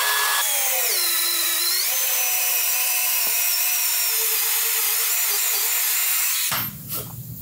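Doliz BD 636 12V cordless drill on its drilling setting, boring through material with a worn bit: a loud, steady high motor whine with a brief pitch dip, ending abruptly as the bit breaks through and the drill stops.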